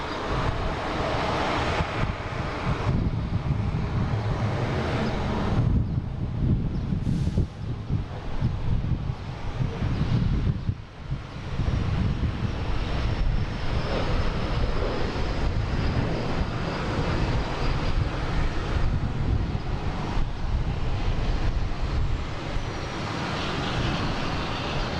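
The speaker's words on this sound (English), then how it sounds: "next taking off is Delta heading to Asheville" A Delta airliner takes off at Boston Logan airport, its jet engines roaring loud and continuous, with the rumble swelling and receding slightly as it climbs away amid wind noise on the microphone, no talk.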